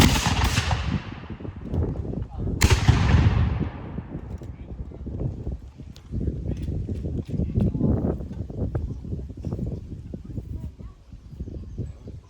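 Two loud booms from black-powder weapons at a militia demonstration, each a sharp blast with a long rumbling decay, followed by crowd murmur and voices in the background.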